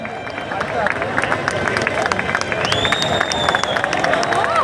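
Loud crowd clapping and cheering at a Mumbai Dahi Handi celebration for Janmashtami, with whistles and excited shouts rising over dense babble of many voices.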